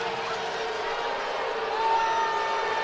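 Hockey crowd at a Columbus River Dragons versus Carolina Thunderbirds game turning irate after an ejection, a dense, steady roar of many voices filling a large arena, swelling slightly louder toward the end.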